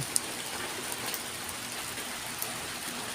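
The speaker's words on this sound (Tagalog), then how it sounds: "umulan na naman" Steady rain falls outdoors, a dense, even hiss of drops hitting surfaces with no pauses and no voices.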